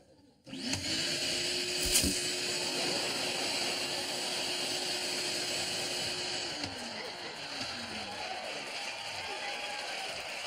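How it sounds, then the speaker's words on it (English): A household vacuum cleaner switches on close by with a steady, high whirring whine that holds for about six seconds, then its pitch drops as it winds down into a lingering rushing hiss. "Does the vacuum work?"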